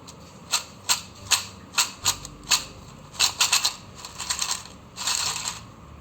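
Dried potato slices for homemade aloo chips being handled, giving a series of sharp, brittle clicks and rattles, roughly a dozen crisp hits in uneven bursts, close and fairly quiet with no talking.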